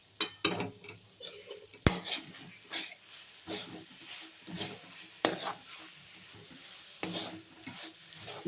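Coconut and poppy seed modak filling stirred in a pan, a spoon scraping and knocking against the metal in irregular bursts with a faint sizzle underneath.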